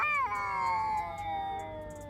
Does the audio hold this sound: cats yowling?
yes